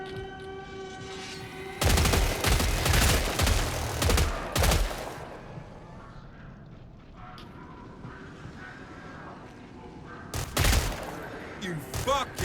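A turret in the video game Killing Floor 3 opens fire in loud, dense bursts of rapid automatic shots, two long volleys early and another near the end, with quieter game ambience between them.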